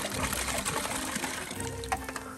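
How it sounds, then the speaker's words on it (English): Water runs and gushes into a container, a steady moderate pouring sound with faint splashes and a brief burble near the end. "we're filling it up the rest of the way with water"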